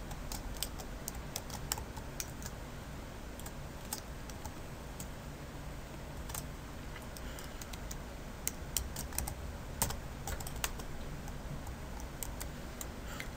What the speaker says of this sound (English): begin with typing in your Gmail address.